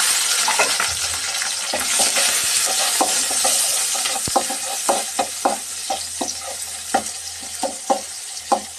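Cinnamon, bay leaf, chopped onion and green chilli fry in hot oil, a bright crackling sizzle that settles into repeated spatula scrapes and clicks toward the end, near and fairly loud.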